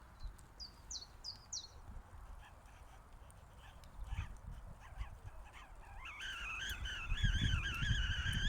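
A Kelly Kettle heated with small twigs starts to whistle as its water boils, a wavering high tone rising over crackling and rustling outdoors, preceded by faint birdlike chirps, and growing louder toward the end.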